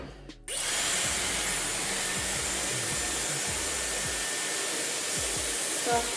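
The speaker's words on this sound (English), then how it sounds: "I'm just gonna turn this on." Dyson Airwrap hair styler switched on and running at its highest speed: after a brief quiet start, a loud, steady broadband whoosh of blowing air holds constant, with faint handling knocks underneath.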